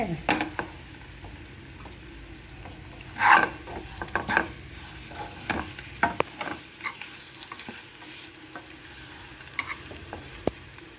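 Eggs for egg curry fry in a pan with coriander while a spatula stirs and scrapes, producing a soft, steady sizzle broken by scattered clinks and scrapes, with one louder scrape partway through.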